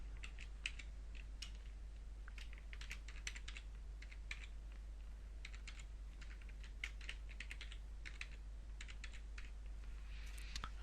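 A password is typed on a computer keyboard, with quick irregular clusters of soft key clicks over a low steady hum, faint and close, without any voices.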